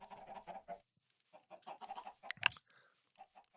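Chickens in the Minecraft video game cluck in short, repeated bursts, with a sharp squawk near the middle and a few quieter clucks trailing off, alone without talk.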